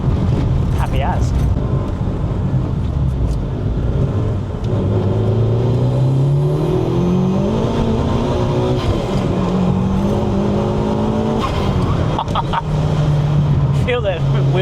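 A Mitsubishi 4G63-powered car accelerating hard with wheel spin, its engine droning steadily up through the revs, close and sustained, with a few sharp blow-off and exhaust pops along the way.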